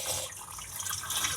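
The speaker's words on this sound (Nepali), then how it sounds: "यहाँनिर मजाले मैले चामललाई पनि धोएँ।" Rice is washed by hand in a clay-coated cooking pot outdoors, the water sloshing and trickling in a soft, close, continuous swirl.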